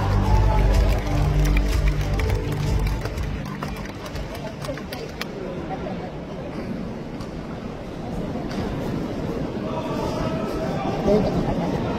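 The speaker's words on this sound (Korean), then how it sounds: "힘찬 박수로 맞이해 주시기 바랍니다" An audience of delegates and party members applauds at the Democratic Party's national convention in Korea, a broad, sustained roar of clapping filling the hall, with a voice speaking over it early on.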